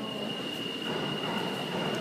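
A New York City subway train rumbles steadily and close by on the metro, a continuous rolling rail roar with a thin high wheel squeal running throughout, and nobody speaking.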